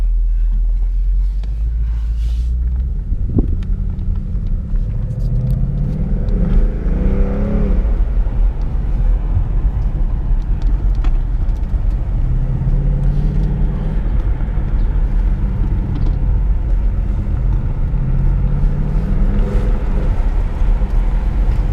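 Deep, loud engine rumble from a right-hand-drive 2017 Ford Mustang GT driven in sport mode, steady through the run with rising and falling revs as the gas is worked, heard from inside the cabin without talk.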